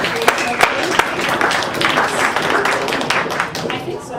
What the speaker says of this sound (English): Give an applause